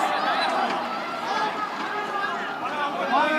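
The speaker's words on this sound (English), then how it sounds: "Crowd making a bit of noise" Crowd at an under-19 Asian rugby match between Chinese Taipei and Singapore, a steady murmur of chatter and cheering rising and falling across the stands, moderately loud and continuous without a break.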